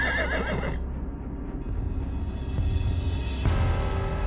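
A horse neighs with a shrill, wavering whinny that cuts off abruptly, then hooves shuffle and thud against a rising whoosh, loud and close with no voices.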